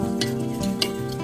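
Peanuts sauté in a pan with a steady sizzle for a village-style Marathi rodge dish, with light scraping strokes from stirring repeating every half second or so, close up and without speech.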